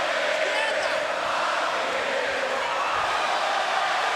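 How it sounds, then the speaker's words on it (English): Boxing arena crowd roaring steadily through a Pacquiao vs Marquez fight, a dense continuous wash of cheering and shouting heard from amid the spectators, loud and unbroken throughout. "And listen to the crowd."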